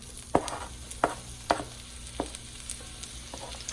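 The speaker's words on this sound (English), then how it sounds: "Put in my onions. Get it fried up." Onions frying in oil in a pan for Thai crab fried rice, a steady close sizzle broken by several sharp clinks or scrapes at irregular intervals, with no talking.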